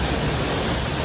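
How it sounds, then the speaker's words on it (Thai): Heavy rain pouring steadily during a depression storm, with gusting wind adding to a loud, dense, unbroken wash of noise close by. "ฝนตกตลอดเลยครับมื้อนี้"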